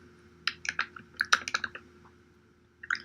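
Fingers type on a computer keyboard in a quiet room: a short burst of crisp key clicks, a pause, then a couple more taps, close and fairly soft.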